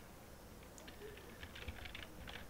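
Quiet, close typing on a computer keyboard as a command is entered in an Ubuntu terminal, a rapid run of soft key clicks growing busier toward the end.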